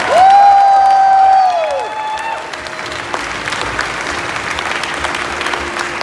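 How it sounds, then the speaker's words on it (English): A crowd at a convention closing ceremony breaks into applause and cheering, a loud whoop rising at the start before steady clapping continues, with some voices mixed in. "Please give them a big round of applause."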